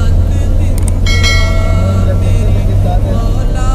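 A car driving on a road, heard from the inside as a steady, loud low engine and road rumble, with a brief higher tone partway through and faint voices mixed in.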